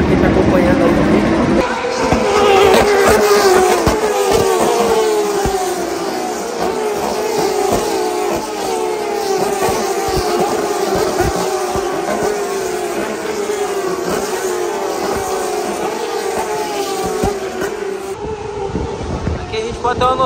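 Turismo Carretera race cars with open carburetors roar off the grid of 51 cars at a race start in Argentina, a loud, rising, layered engine blare with overlapping revs that stays dense and close throughout.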